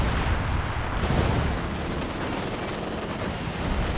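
Counter-barrage artillery fire in Company of Heroes 2 battle, a dense rumbling stream of gunfire and booming shots with no pause, loud and close throughout.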